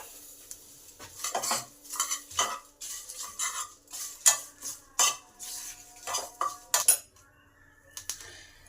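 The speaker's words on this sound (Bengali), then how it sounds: "এই যে ভাজার একটা আওয়াজ হচ্ছে" Spices dry-roasting with bay leaves in a pan over medium heat, stirred with a spoon that scrapes and clinks against the metal in irregular bursts, close and fairly quiet, with no voices.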